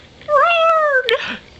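A cat lets out one clear, fairly loud drawn-out meow up close, followed by a brief rustle, with no talking over it.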